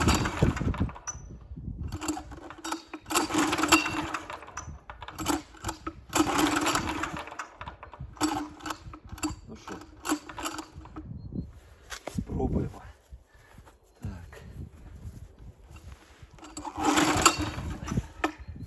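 A walk-behind tractor engine that has not started since winter is cranked repeatedly with the decompressor, producing several rough, sputtering bursts separated by quiet pauses that never catch and run, with someone talking between attempts.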